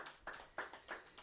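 A church congregation gives a round of clapping at a Hindi-language sermon, several rhythmic bursts of hand claps at moderate volume with no talking.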